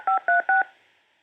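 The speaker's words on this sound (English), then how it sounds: "Please enter your PIN number." Three short, evenly spaced telephone keypad tones punched in while entering a conference call PIN, loud and clear with no talking.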